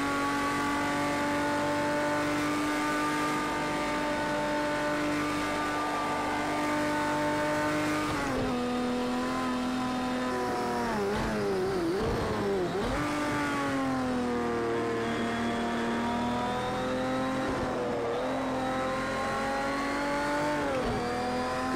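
Race car engines in the Project CARS 2 video game with Spirit of Le Mans cars, a loud continuous harmonic drone rising and falling through gear changes and revs, with brief dips as the cars brake and accelerate.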